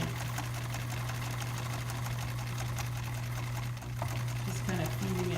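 A sewing machine stitches steadily through 100% cotton denim for a backpack, a continuous close mechanical whir with a constant low hum, with a brief faint pause near the end.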